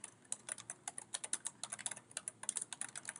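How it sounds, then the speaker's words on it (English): Close, crisp typing on a computer keyboard, quick irregular clicks of keys in steady bursts, fairly quiet with no talking. "I'm just going to type in my post"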